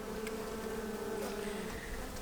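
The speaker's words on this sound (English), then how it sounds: "look at that nice cluster of bees here" A cluster of honeybees in a hive, including a newly returned queen, gives off a continuous low buzzing drone, close and steady, with no talking over it.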